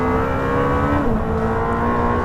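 A 903 bhp Lamborghini Temerario supercar accelerating on a race track, its high-pitched engine note rising and shifting through gears, loud and close with a brief dip near the middle.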